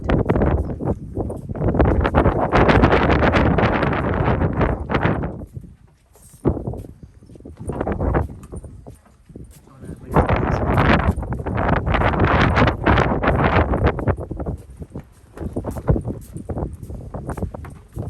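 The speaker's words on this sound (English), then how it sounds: "It's kind of windy up here" Wind gusts across the Masada mountaintop and buffets the microphone in loud, roaring surges that rise and fall over several seconds, broken by brief quieter lulls, with no talk.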